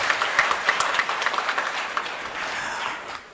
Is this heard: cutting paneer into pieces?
no